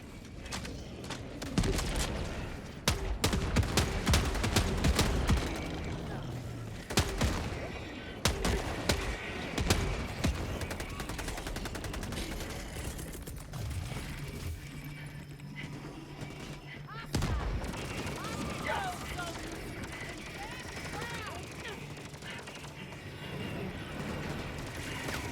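Machine gun bursts and heavy explosions clatter in Helldivers 2, loud rapid volleys early on that thin into scattered shots and rumbling blasts, with voices talking over the fight.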